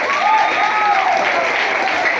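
A church audience applauding at a youth gathering in Haiti, a loud, dense burst of clapping from a crowd that holds steady throughout, with faint voices mixed in.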